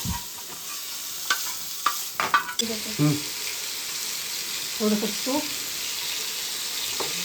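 Paneer fries in a kadai with a little ghee and oil, giving a steady sizzle broken by stirring scrapes and clanks, with a few brief voices.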